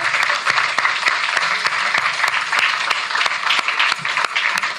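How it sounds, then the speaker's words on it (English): Audience applause after a memorial lecture, dense continuous clapping from a sizable crowd with a few sharp individual claps standing out, loud and sustained with no talk. "Please join me again in giving a round of applause to the Honourable Ms. Hazel Simmons-McDonald"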